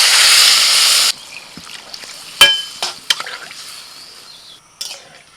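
Water poured into rice in a hot pan makes a loud, harsh hiss for about a second, followed by quieter clinks and scrapes of cookware.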